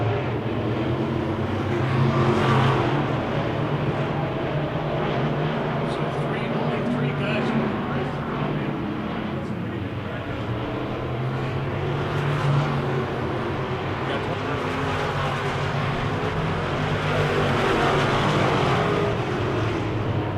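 Wissota Midwest Modified race cars roar around a dirt oval in a heat race, a continuous rumbling engine drone swelling and fading as the pack passes, with an announcer calling the action over it.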